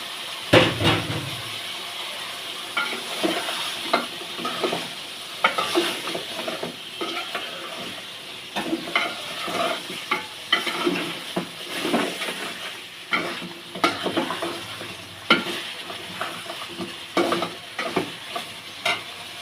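Potatoes fry in a pan with a continuous sizzle while a utensil stirs them, scraping and clattering in irregular bursts close by for nearly twenty seconds.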